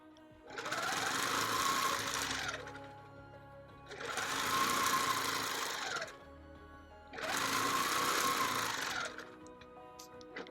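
Domestic sewing machine stitching a bird panel quilt, running in three sustained bursts of fast, whirring stitching of about two seconds each, separated by short quiet pauses.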